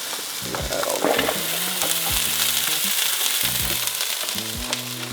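Brussels sprouts dropping into a hot pan and sizzling, a steady frying hiss with several bursts of clatter and stirring scrapes, close and moderately loud, no talk.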